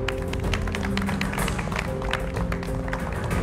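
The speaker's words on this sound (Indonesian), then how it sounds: "Tepuk tangan dong." Audience on the MasterChef Indonesia cooking show claps with sharp, rapid, overlapping hand claps. The applause is steady and moderately loud over a background hum.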